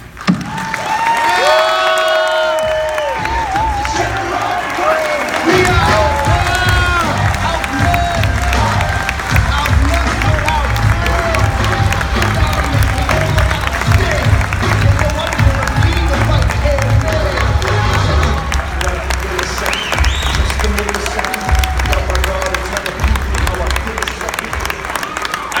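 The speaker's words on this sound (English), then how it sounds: "one more round of applause for the next nominee, for the next President of the United States of America, Governor Gary Johnson" A large crowd claps and cheers for Governor Gary Johnson, with loud, sustained applause mixed with whoops and shouts, and voices rising above the din throughout.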